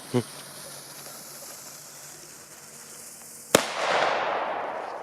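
A firecracker goes off with a sharp crack, followed by a loud hissing, crackling burst that fades, after a small pop at the start and a quiet stretch of background noise.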